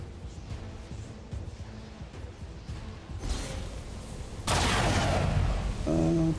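Gunfire in the XCOM 2 video game: a sharp shot bursts in loud over rumbling game ambience, followed by a sustained blast-like roar and a brief tonal game sound at the end.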